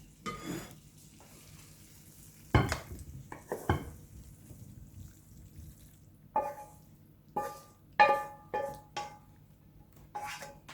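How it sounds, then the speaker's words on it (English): Shrimp pasta primavera is tossed together, then transferred into a bowl, giving scattered clinks and scrapes of utensils against cookware over a faint background hiss, quiet between the sharp knocks. "Get it all mixed together before I put it in my bowl."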